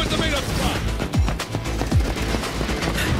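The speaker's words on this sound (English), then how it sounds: "And they're like random ass shots" Sharp gunshots ring out in an action video game, several quick cracks and booms scattered across a busy mix of music and effects, with a voice talking over them.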